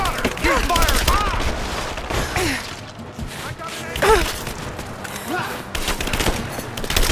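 Rapid gunfire rattles in Rise of the Tomb Raider, with repeated bursts and volleys over several seconds, mixed with shouted voices.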